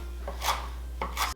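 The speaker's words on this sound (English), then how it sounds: "chop it up real fast" Garden herbs being chopped with salt on a board, two quick bursts of rasping, scraping knife strokes close up, with a steady low hum underneath.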